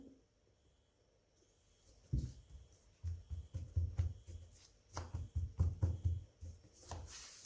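Unleavened lavash dough is rolled out on a work surface with a series of soft, low rhythmic thumps and rolling rubs that start after a quiet stretch and then repeat in bursts; close and faint, with no talking.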